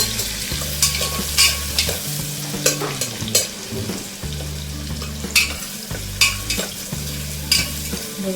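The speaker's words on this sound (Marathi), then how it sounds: "तेल चांगलंच तापलेलं आहे आपलं, परतून घेऊया।" Onion sautés with cumin in well-heated oil, giving a continuous sizzle with repeated spatula scrapes and knocks in an uneven rhythm, close and clear, with no voices.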